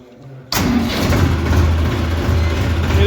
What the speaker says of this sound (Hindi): ये देखो जी कितनी प्यारी आवाज़ है ट्रैक्टर की।